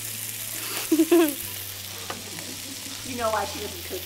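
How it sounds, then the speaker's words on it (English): Frozen sausage fries in a pan with a steady sizzle and grease spatter under close talking voices. "the sausage will splatter grease onto your fingers"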